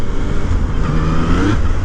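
A 2020 Yamaha MT-09 motorcycle pulls hard under acceleration, its engine note loud and close with a rising growl over less than two seconds, no voices.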